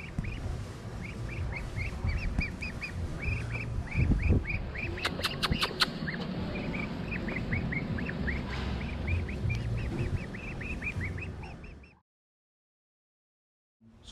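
Two Muscovy ducks, a mother and her daughter, call back and forth in a rapid series of short soft quacks and hisses, fairly close, over steady background noise, before the sound cuts to silence near the end.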